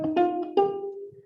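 Three bowed violin notes, sa, re and ga of the Indian scale, rise step by step in a slow, close, solo line, each held and sustained before sliding up to the next.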